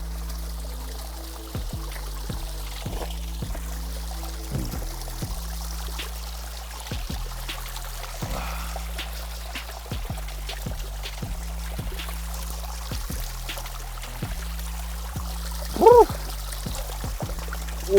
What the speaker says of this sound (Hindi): फ्रेश चश्मे का पानी, just the thing we needed